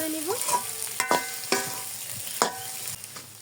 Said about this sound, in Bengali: এখন গ্রেট করা আলু আর ডিম দিয়ে দিব। এখন নেড়ে নেড়ে পুরটা রেডি করে নিব।